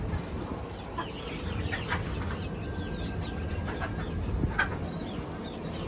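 A Brahma rooster clucks in a farmyard, with short scattered bird calls and a brief thin chirp over steady low background noise at moderate distance.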